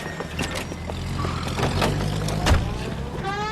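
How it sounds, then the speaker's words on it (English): A car in the L.A. Noire video game pulls out of a driveway to start a pursuit, with moderate engine rumble and mechanical clunks plus a brief thump, heard alone without voices. "That's the car, Cole. Just pulling out of the drive."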